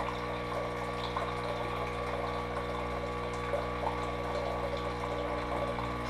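A Saeco Odea Go espresso machine's pump drones steadily and quietly while drawing descaling solution through the machine, a continuous even hum with faint watery gurgles and no talking.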